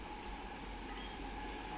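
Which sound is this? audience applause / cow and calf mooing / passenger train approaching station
passenger train approaching station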